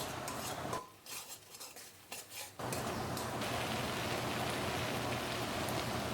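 Ground spice paste sautéing in a pan for a thin fish curry, with a loud dense sizzle that dips briefly while a utensil clinks and scrapes, then returns to a steady roar.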